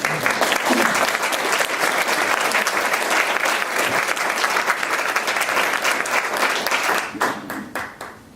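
An audience claps steadily and warmly in a room, dense and sustained, then thins to a few scattered claps as it dies away.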